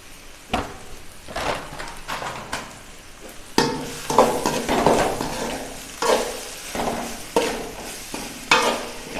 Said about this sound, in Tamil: நல்லா மைய தக்காளி வந்து நல்லா வதங்கணும்.